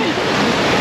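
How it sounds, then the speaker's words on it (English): Water jets spray from a hole beside the Grizzly River Run raft ride at California Adventure, a brief close, loud hissing gush. "Why is there water shooting out of that hole?"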